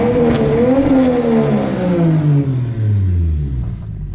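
A Lexus GS300 with a turbocharged 2JZ-GE engine revs loudly up close. Its pitch climbs, then falls away as the throttle eases, and the growl fades near the end.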